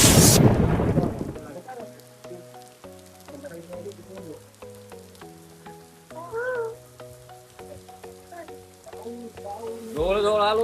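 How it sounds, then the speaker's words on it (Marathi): Heavy rain hissing steadily on a road near Hadsar fort during a monsoon trip, opening with a loud burst, with tonal music-like sounds running over the downpour. "मोकार पाऊस"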